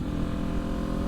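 A 2023 Kawasaki Ninja 400 sport motorcycle being ridden, its engine giving a steady, close, buzzing hum with a rapid regular pulse over a brief moment.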